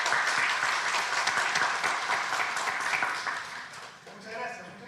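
A room of people applauds a guest speaker, a doctor, at a Congress of the Republic event on the justice system: a full, even wash of clapping that holds steady, then tapers as a voice begins near the end.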